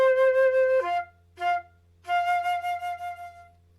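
Flute playing an F and a C, then slurring up to a high F followed by short staccato tongued notes; clear, close, breathy tones with brief gaps between phrases and no voices.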